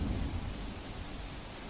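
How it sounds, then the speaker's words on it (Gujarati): Heavy rain with thunder during a storm in Gujarat's Panchmahal district, a dense, steady roar of rainfall over a deep rumbling low end, continuous and without voices. "વરસાદ વીજળીના કડાકા ભડાકા સાથે વરસાદ થયો"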